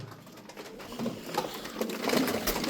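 Pigeons coo softly, including a crested blue pigeon among a loft of performing birds, with repeated low murmuring calls under steady background noise.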